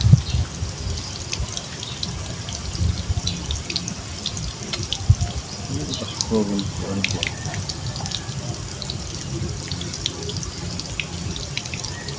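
Water from a water pump pours and splashes steadily as its flow is tested, a continuous gushing with faint drips and clinks throughout.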